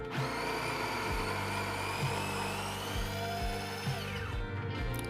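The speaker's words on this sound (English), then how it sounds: "Now this is what I just got from the grinder." An espresso grinder dispenses an 18-gram dose of coffee grounds with a steady, loud motor whine and a buzzing drone of repeating pulses, then the pitch falls away as it winds down near the end.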